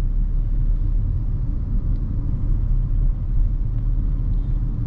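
Kia Sonet 1.2 petrol car accelerating in 4th gear, heard from inside as a steady low engine rumble and road drone, even and continuous without talk.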